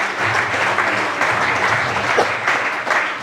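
Dense, steady applause from an audience fills the whole stretch, congratulating selected Agniveer army candidates at a coaching institute's ceremony, loud and continuous with no pauses.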